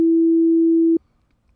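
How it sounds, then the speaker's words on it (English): Pure sine tone from a single-operator Sytrus synthesizer patch, held steadily for about a second, then cut off, followed by a short restart at the end. "It's a sine wave when you play it."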